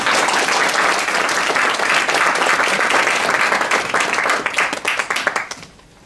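Audience applause greets newly signed players at a football club's season team and uniform presentation, a dense sustained wash of clapping that tapers off near the end.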